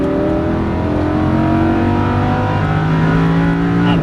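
Lamborghini Huracan LP610-4 engine at full throttle on a racetrack, a loud, steady high-revving roar with rising harmonic tones throughout, close and continuous without speech.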